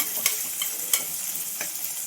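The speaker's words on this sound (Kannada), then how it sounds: "ದೊಡ್ಡ ಗಾತ್ರದ ಈರುಳ್ಳಿ ತೊಗೊಂಡಿದ್ದೀನಿ. ಹಾಕಿ ಸ್ವಲ್ಪ ಚೆನ್ನಾಗಿ ಫ್ರೈ ಮಾಡಿ." Large onion frying in a pan for palak rice bath, a soft steady sizzle with three distinct spoon scrapes as it is stirred, close-up and without speech.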